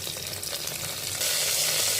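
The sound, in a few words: curry leaves sizzling in hot oil for pongal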